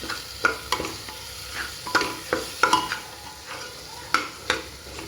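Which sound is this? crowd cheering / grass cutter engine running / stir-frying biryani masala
stir-frying biryani masala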